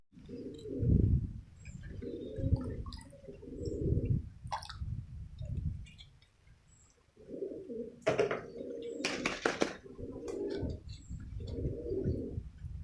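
Domestic pigeons coo in repeated low, throaty phrases close by, with a brief clatter and a sharp rustle partway through.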